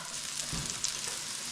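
Mushrooms frying in a pan for a pork belly and mushroom stew, a soft steady sizzle with a faint stir-like bump midway, close and even.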